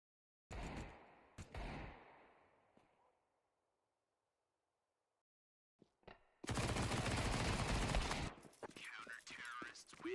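Desert Eagle pistol fire in a video game comes in two brief bursts, then silence, then a longer, louder stretch of rapid shots near the end.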